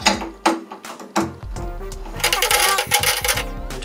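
A newly installed interior door handle being turned and tested, giving sharp metallic clicks and latch snaps at first, then a busier run of rattling, clattering mechanism sounds, close and fairly loud.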